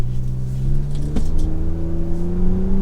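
A Toyota Camry TRD engine revs up steadily as it accelerates in second gear, its pitch climbing smoothly under load, heard close and loud from inside the vehicle.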